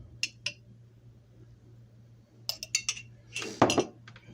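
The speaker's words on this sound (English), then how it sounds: "Mix all this up" Spoon clinking against a bowl while tuna salad and relish are mixed, a few scattered light taps early, then a quick cluster of clinks and scraping near the end.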